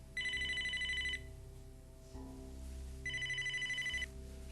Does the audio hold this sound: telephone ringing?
yes